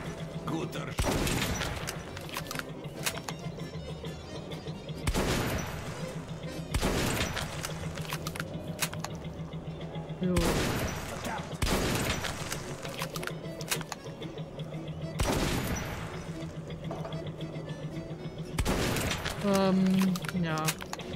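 A series of loud, sharp gunshots at a shooting range, fired every couple of seconds in an irregular rhythm, each with a short echoing tail, while people talk nearby in the pauses.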